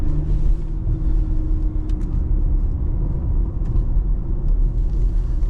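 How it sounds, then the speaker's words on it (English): A 2015 Porsche Macan Turbo in sport mode, its exhaust giving a steady deep rumble with light crackling burbles, heard up close from inside the moving SUV. "Got some burbles in sport mode"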